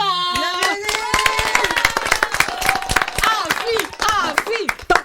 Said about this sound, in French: T'as entendu tout ce monde là qui applaudissait derrière?